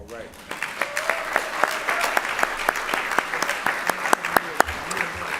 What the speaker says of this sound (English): Once again, a round of applause for our Lifetime Legacy awardee, Kwasi Mfume